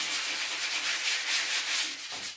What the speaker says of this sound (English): So that's just to get the glue off. And to give it a bit of a light sand.